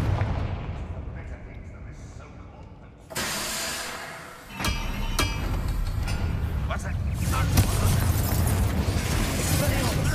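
Confringo spell explosion in the video game Hogwarts Legacy: a sudden loud blast, a second burst moments later, and then a sustained roaring rumble that fills the rest of the scene.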